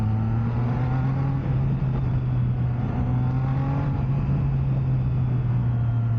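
A Triumph Trident 660 inline-triple motorcycle engine at close range, a steady deep bassy exhaust hum with gentle revs swelling and easing over a constant low drone, with no talking.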